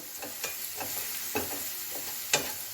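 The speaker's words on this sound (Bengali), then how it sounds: "ভালোভাবে নেড়েচেড়ে রং ধরা পর্যন্ত অপেক্ষা করে চিকেন কিমা অ্যাড করব" One whole onion and about two tablespoons of minced garlic fry in a pan, a faint steady sizzle broken by a few soft scraping stirs, heard close and without talk.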